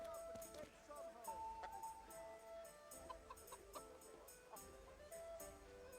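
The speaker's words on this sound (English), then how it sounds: "Chicken." A chicken clucks in the video game Kingdom Come Deliverance, a few soft clucks close by amid game ambience and music, with someone talking over it.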